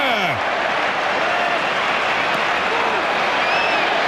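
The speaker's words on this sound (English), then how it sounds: "Great applause from the crowd." Dense, steady applause from a large rugby crowd at Twickenham fills the clip at close range, with cheers and whistles rising through a continuous wash of clapping.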